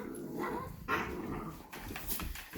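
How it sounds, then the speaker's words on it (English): Puppies scuffle and bark at home in the morning, with repeated close yips and barks mixed with playful growling and rustling throughout. "Puppies are fighting."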